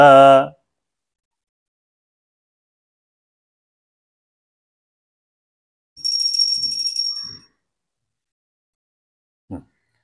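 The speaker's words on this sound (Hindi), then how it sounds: "घंटानादं कुर्यात्" A ritual hand bell rings during a Hindu puja: one bright, high, shimmering peal lasting over a second, heard clearly in near silence after a brief chanted voice, followed by a soft tap.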